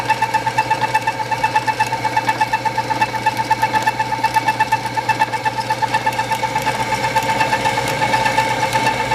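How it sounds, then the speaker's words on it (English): An Ammco 6-inch metal shaper runs with its clutch engaged, a motor hum under a fast, steady, repeating knock of the short ram stroke, close and unbroken throughout. "motor's turning, and I'm going to engage the clutch, and here is the stroke we see right now"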